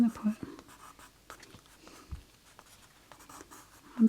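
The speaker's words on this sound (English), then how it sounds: "I've got an 8B pencil, which is like a really dark graphite pencil." 8B graphite pencil drawing on paper, with soft, scratchy strokes and short scribbles close up, intermittent and quiet, with a voice talking over them.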